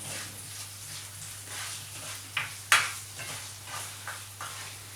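Steady low frying sizzle with a faint hum underneath, punctuated by a couple of sharp clinks of a utensil against a pan as small roast potatoes are stirred, no talking.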